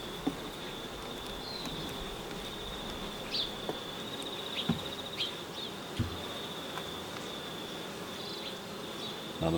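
Honey bees in an open beehive make a steady, dense buzzing drone close at hand in winter, with the occasional louder insect passing by, a few soft knocks and light clicks, and no talking.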